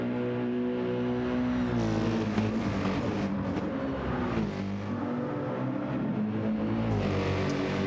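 A car engine in the Battlefield 6 video game roars loudly throughout, its pitch climbing and falling through revs and gear changes, with no talking.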